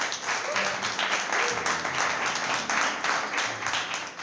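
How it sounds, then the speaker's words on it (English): A crowd at a book launch and signing gives a sustained round of applause, many hands clapping in a continuous, even wash from start to finish, with a few faint voices underneath. "Give him a round of applause."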